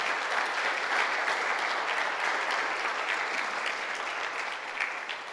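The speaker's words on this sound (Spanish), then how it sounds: "Vamos a darle un fuerte aplauso al Ministerio de Alabanza" A church congregation applauds steadily, with dense clapping that holds at a consistent level before easing slightly at the end.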